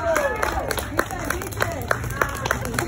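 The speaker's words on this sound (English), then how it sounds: "give them a huge round of applause" An audience claps and cheers for two people welcomed onstage at a live podcast taping, a steady wash of applause with sharp individual claps over crowd murmur.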